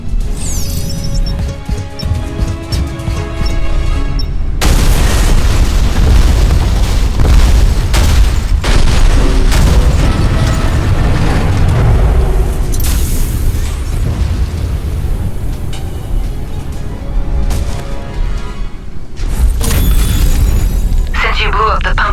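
A heavy explosion rips through a pumping station in the Alien Rage video game, a loud booming blast with crashing debris and sustained rumbling that rolls on for many seconds, with a second burst of impact near the end.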